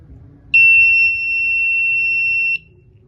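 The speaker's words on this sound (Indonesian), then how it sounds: "alarm berbunyi" A phase loss protector alarm on a 3-phase motor panel sounds one loud, steady, high-pitched electronic tone lasting about two seconds, with low room noise underneath.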